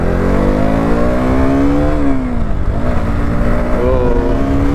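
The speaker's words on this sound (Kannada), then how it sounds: "ಬನ್ನಿ ಇವತ್ತು ಡ್ಯೂಕ್ 200 ಟಾಪ್ ಸ್ಪೀಡ್ ಎಷ್ಟೋಗುತ್ತೆ ಅಂತ ಚೆಕ್ ಮಾಡೋಣ." A KTM Duke 200 motorcycle accelerates on an expressway with a loud, close engine drone and rising whine shifting pitch under wind rush, with rider's speech faintly mixed in.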